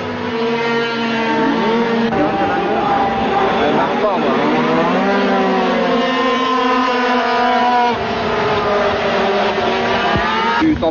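A Group 3 race car in a French championship practice session revs its engine loudly and steadily, pitch rising and falling through the gears, with voices talking over the constant engine drone.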